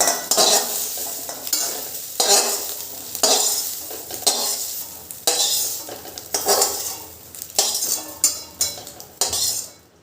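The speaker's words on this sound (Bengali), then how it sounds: "অল্প একটু তেল দিয়ে সোয়াবিনগুলো একটু ভেজে নিচ্ছি" Soybean chunks fry in a little oil in a pan, a soft sizzle under repeated scraping and clinking strokes of a spoon stirring against the pan, close and rhythmic, without talking.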